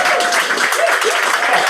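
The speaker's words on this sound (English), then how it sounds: "That deserves a round of applause" Brief burst of audience applause at a live comedy show, with voices mixed into the clapping.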